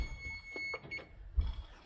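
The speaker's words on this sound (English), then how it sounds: "I'm gonna turn off this annoying alarm." An alarm sounding indoors in the early morning, giving a few short electronic beeps over low thumps and handling noise before it falls quiet.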